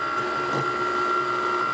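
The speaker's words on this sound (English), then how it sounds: "So first what the machine's gonna do is it's gonna come over here." A Cricut cutting machine shifts its tool head across the mat before scoring and drawing a DIY Christmas card, giving a steady motorized whir with a constant electronic whine throughout.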